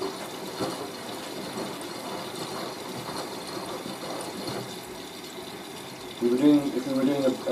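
Water runs steadily into a front-loading washing machine as it fills, a continuous hiss and gurgle at low level, with a voice talking near the end.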